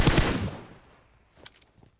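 Gunfire in the mobile battle royale game PUBG Mobile, a loud burst of rapid shots at the start that quickly fades, followed by a few fainter distant shots.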